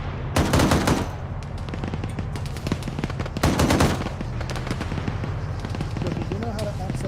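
Video game gunfire in bursts of rapid automatic fire, loud and close, with heavy volleys around the first and fourth seconds and scattered single shots between, while voices talk over it.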